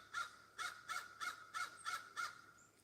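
A crow caws seven times in an even, rapid rhythm, distant and fairly faint, each call harsh and clipped.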